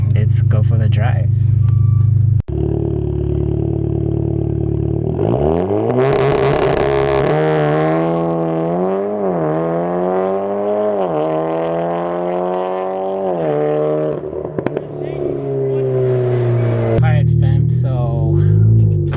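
A modified Stage 2 VW Golf R MK7.5 accelerating hard on the road, its engine note climbing in long repeated rising sweeps through the gears, loud and close, easing off toward the end.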